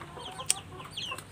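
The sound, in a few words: mother hen clucking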